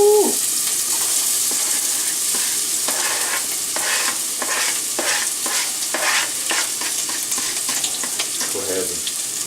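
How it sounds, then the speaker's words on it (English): Onions and garlic hit a hot pan of extra virgin olive oil and fry with a loud, crackling sizzle, broken by repeated scraping stirs, with a brief voice near the end. "Now that our pan is hot with the extra virgin olive oil, we're gonna go ahead and add our aromatics."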